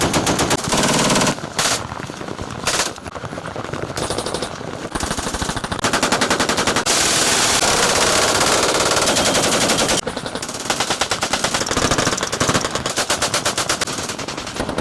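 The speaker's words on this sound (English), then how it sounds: "All of these are privately owned machine guns." Privately owned machine guns fire loud, sustained automatic bursts, several weapons overlapping in rapid rattling volleys with brief pauses between strings of fire, no talking.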